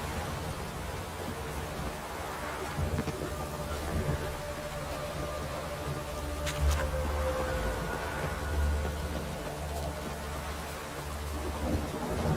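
Steady heavy rain pours down during a storm in The Witcher 3, a constant dense hiss with low rumbling beneath, continuous and fairly loud throughout.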